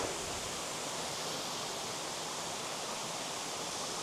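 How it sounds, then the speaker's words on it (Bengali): Choi waterfall in a Himalayan meadow near Tirthan, water flowing and tumbling downhill: a steady, even broadband rush of falling water, moderately distant and unchanging, with no voices. "এই হচ্ছে চই ওয়াটারফলস।"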